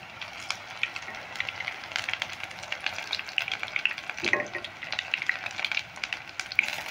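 Drumstick flower fritters fry in oil with a steady bubbling sizzle and frequent small crackles and pops, moderately close and uninterrupted by talk.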